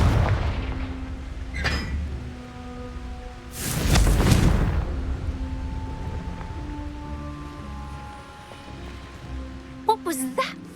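Confringo fire spell explosions burst in Hogwarts Legacy combat, with a big booming blast near the middle, a sharper crack earlier and scattered impacts near the end, under game music and brief talk.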